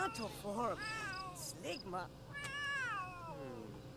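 A cat meows repeatedly in The Sims 3 video game, several drawn-out, rising and falling cries close up, with someone speaking over and between them.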